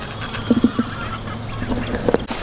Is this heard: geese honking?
yes